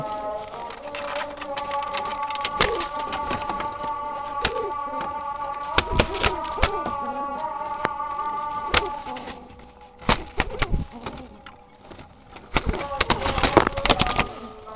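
Jalali pigeons coo in low, repeated throaty calls, close by, with sharp clatters and scuffling from the birds moving about. A voice can be heard faintly now and then.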